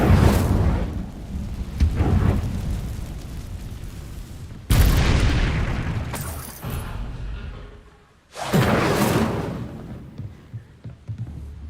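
A fire spell cast in the video game Hogwarts Legacy, heard as heavy, roaring bursts with thunder-like booms that flare up loudly twice and then rumble away, set over a dense, continuous game soundscape.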